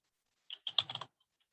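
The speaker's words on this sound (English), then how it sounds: "if I go ahead and type universal" Quick burst of about half a dozen keystrokes on a computer keyboard while a search term is typed, close and crisp, with silence around it.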